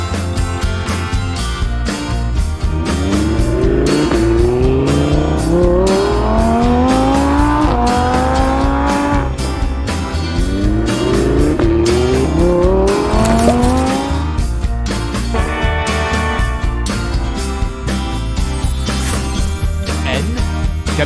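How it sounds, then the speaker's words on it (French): A cartoon monster truck revs and drives loudly with repeated rising engine sweeps and tire squeals, continuous and close, over a steady rumble with no voices. "Monster Truck."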